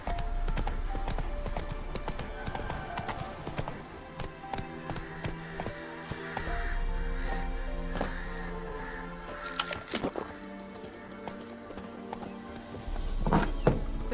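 Roach, the horse in The Witcher 3, clip-clops along steadily, with hooves striking in a continuous rhythmic gait over low game ambience, plus occasional louder knocks and a swell near the end.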